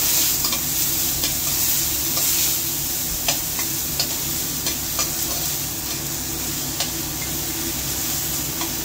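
Onion and ginger sauté in a pan for tomato egg drop soup, with a steady close sizzle broken by light, irregular spatula scrapes and taps throughout.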